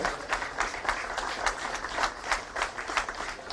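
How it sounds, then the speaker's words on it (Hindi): Applause from the crowd at a police passing-out parade: a steady run of hand-clapping that swells and dips in quick waves and stays moderately loud, with no voices over it. "जोरदार तालियां बजती रहे"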